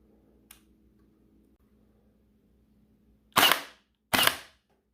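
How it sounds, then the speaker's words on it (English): Two sharp, loud single shots from a Xfoxgames BK1 airsoft gun fitted with a CQB kit, fired close by under a second apart, after a quiet stretch with one faint click. "We're going to do a couple shots single, and then we'll do the rest on full auto and see what it does."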